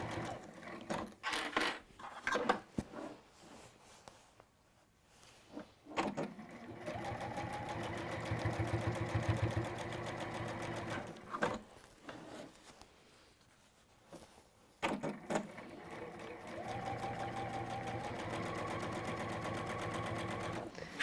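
A domestic sewing machine stitches a bag seam in several bursts of steady, rapid mechanical whirring, stopping and restarting between runs, close and fairly loud.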